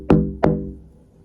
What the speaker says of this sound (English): When suddenly, I heard the demon knocking.